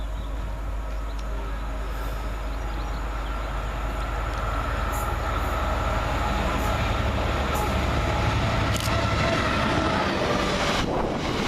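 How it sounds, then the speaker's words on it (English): A freight train hauled by Class 66 locomotive 66571 passes through Burnham railway station on a hot, hazy day, a loud continuous rumble of wagons rolling by with rhythmic clanks and wheel clicks, nearby. "Through the heat and the haze comes another freight train as 66571 works 6A62 from Acton Lane reception sidings"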